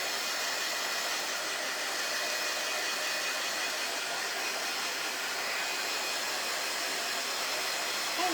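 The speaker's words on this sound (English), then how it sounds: "if you had a hair dryer that had like a cooler setting" A hair dryer blows with a steady, broadband hiss, loud and continuous from start to finish, with no voices over it.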